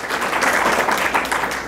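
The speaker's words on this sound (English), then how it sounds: "Can you give them a big round of applause?" A luncheon audience breaks into steady applause, dense clapping sustained at an even level throughout the short stretch, with no voices over it.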